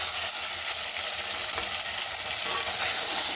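Garlic and green chili paste fries with browned onions for a chana dal and chicken feet dish, giving a steady, close, dense sizzle with faint stirring scrapes throughout. No one speaks.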